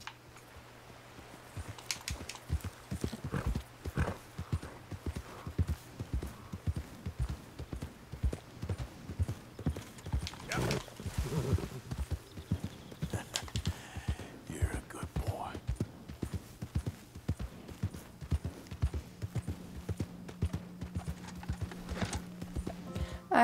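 Horse hooves clip-clopping in Red Dead Redemption 2, a steady rhythmic trot that keeps on throughout, fairly close, with a soft voice speaking quietly over it at times.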